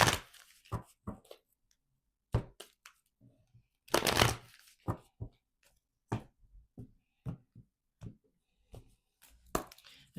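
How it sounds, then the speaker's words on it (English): Oracle cards are shuffled in short, crisp bursts with quiet pauses between, close and fairly soft, a riffling flutter repeating irregularly. "I'm just shuffling."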